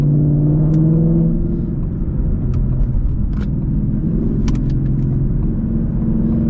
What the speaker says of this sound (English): we're gonna be going onto this ramp, so I'm gonna put it in sport mode, try to push the car a little bit.